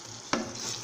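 Chicken with turmeric is stirred in a frying pan, giving one quick scrape of the spoon over a soft, faint sizzle.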